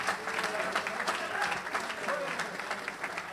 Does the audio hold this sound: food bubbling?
no